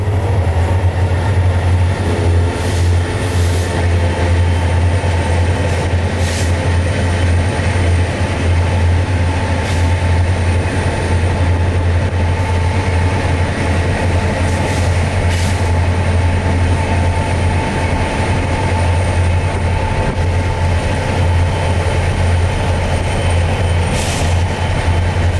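A freight train led by EMD locomotives rolls past in the Central Florida woods, with empty phosphate hoppers in the consist. A loud, steady rumble of wheels and cars runs throughout, with a low engine drone, scattered squeals and clicks.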